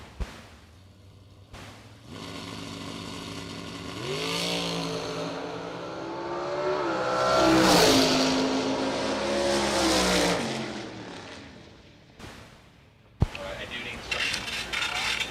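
Box stock race cars on a dirt track rising to a sustained engine roar as they accelerate and pass, fading out, then a sharp bang and renewed engine noise, with announcer talk under it.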